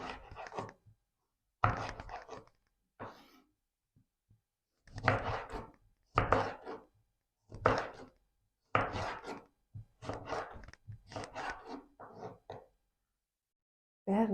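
Half a lemon being sliced with a knife on a board for homemade iced tea, a series of short crisp cuts in irregular bursts separated by brief silences, close and fairly quiet.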